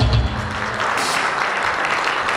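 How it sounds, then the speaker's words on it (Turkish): A crowd at a book launch claps vigorously, a loud, dense burst of applause that fills the whole short stretch without letup. "Güzel bir alkış abimiz. Kuvvetli bir alkış."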